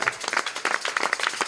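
A church congregation applauds and cheers loudly for the king of kings, a dense, continuous patter of hand claps with scattered voices close by.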